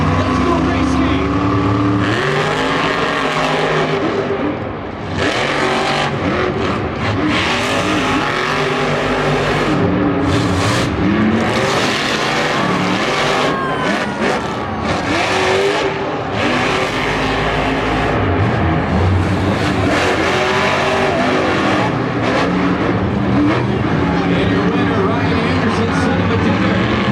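Monster trucks racing in the Monster Jam semifinals at Angel Stadium, Anaheim: loud, continuous roaring engines that rise and fall for the whole stretch, with an announcer's voice over a stadium crowd.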